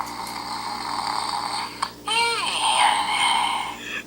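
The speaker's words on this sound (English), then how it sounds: "Yep, he snores, doesn't he?" Grumblies Bolt electronic toy making snoring and whimpering sounds after a meltdown, a steady noisy tone with a short rising-falling warble in the middle, close and fairly loud.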